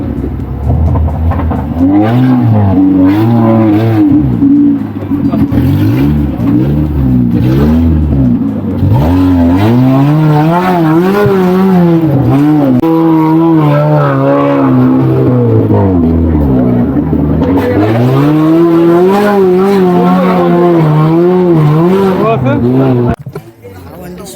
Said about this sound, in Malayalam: ഞാൻ പറഞ്ഞ ജിപ്സി അവിടുന്ന് ലോഞ്ച് ആയിട്ടുണ്ട്